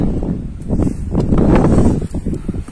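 Strong wind buffets the microphone on the sandy summit trail of Mount Slamet, loud gusting rumbles swelling and easing continuously without any talk.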